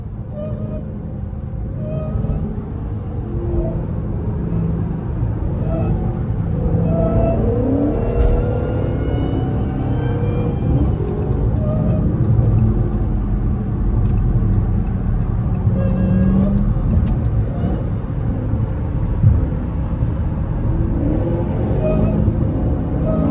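Engine of a Dodge Demon or Hellcat with a supercharger, a rumbling idle with rising whine and occasional revving, close and steady throughout, with faint voices in the background.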